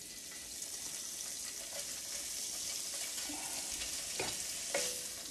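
Deer heart frying in a pan, a steady close sizzle with light stirring scrapes and a few clicks over the hiss.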